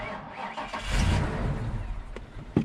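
An old, cheap Honda Civic cranks and its engine catches, rising into a rough, close rumble that settles into an uneven idle. A couple of sharp knocks follow near the end.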